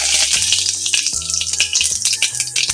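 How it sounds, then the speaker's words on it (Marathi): Mustard seeds, cumin and curry leaves hitting hot oil in a pan, giving a loud, close, crackling sizzle with rapid popping and rattling throughout, no voices. "गरम झालं त्यानंतर त्यामध्ये थोडीशी मोहरी, जिरं, त्यानंतर थोडासा कढीपत्ता."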